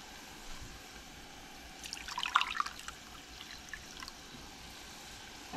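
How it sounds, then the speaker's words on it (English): Water poured into a pot while making a Dollar Tree Knorr Alfredo lasagna: a soft, faint trickle that swells briefly in the middle and fades again. "Water."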